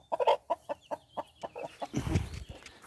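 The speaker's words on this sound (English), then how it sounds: "We got some chicks." Day-old chicks in a garden coop, peeping in a steady rhythmic string of short calls, fairly close, with a busier cluster of chirps toward the end.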